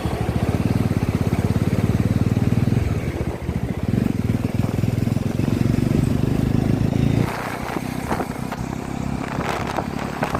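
A motorcycle rides through a highway toll plaza, its engine a close, steady droning rumble that drops in loudness partway through as road and traffic noise take over.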